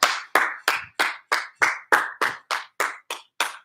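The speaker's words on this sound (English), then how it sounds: "Round of applause." An audience at a live kids' PE class claps in a round of applause: about a dozen sharp, evenly spaced claps, loud and close, with no talking.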